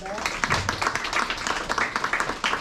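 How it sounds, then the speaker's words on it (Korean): Audience applause at an environmental eco-talk concert in Hamyang with high school students, a dense run of hand claps from a crowd for about three seconds, steady and fairly close, with a voice over it. "큰 박수 드립니다"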